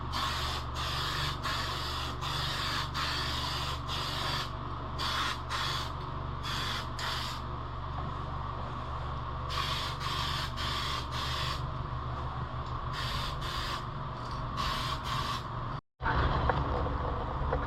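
Spray can laying silver paint onto the inside of a clear 1979 Chevy K5 Blazer RC body for a TRX-4, in repeated close hissing bursts of varying length with brief pauses between, over a steady low background hum.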